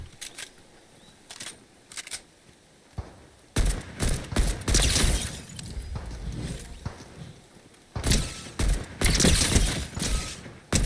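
Bursts of rapid gunfire in Fortnite crackle in dense volleys, loud and close, separated by quieter stretches with scattered single shots and mechanical clatter.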